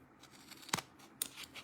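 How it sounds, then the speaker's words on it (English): Scissors snip the angled edges of a paper tag, two quick sharp cuts with faint handling rustle between, close and quiet. "I'm going to just grab my scissors again"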